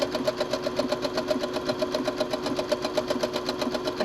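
Sewing machine running a wide stitch of 4 mm length through fabric, a steady rapid mechanical chatter of even needle strokes, close and continuous with no talking.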